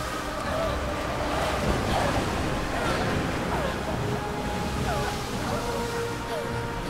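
Ocean surf rolls steadily around a boat at sea in Brothers: A Tale of Two Sons remake, a continuous washing roar with wind noise, mixed with background voices.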